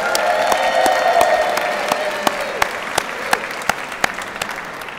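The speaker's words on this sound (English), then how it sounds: "Please clap and cheer." A rally audience claps and cheers: dense, loud applause with whoops at the start, thinning into scattered, sharper individual claps toward the end.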